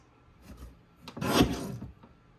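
A paper strip is trimmed for a scrapbook page, giving a short rasping slide of a cutter or paper trimmer, close and fairly quiet, after a couple of faint soft rubs.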